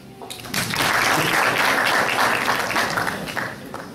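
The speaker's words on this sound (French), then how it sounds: "à chaque fois que le petit bonhomme apparaît, vous devez applaudir" An audience at an association's general meeting breaks into sustained applause, a dense wash of clapping that swells quickly and holds steady for several seconds before easing slightly.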